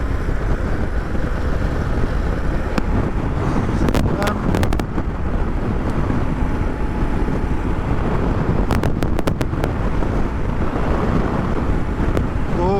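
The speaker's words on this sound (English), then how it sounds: "it's a bit windy too" Steady, loud wind buffeting a microphone while riding a BMW R100GS motorcycle, a continuous roar throughout with scattered clicks and no break.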